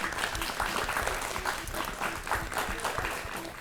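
Studio audience applause rewards a correct answer on a children's dental-care quiz show, a steady wash of clapping that holds at an even level throughout with faint pulses.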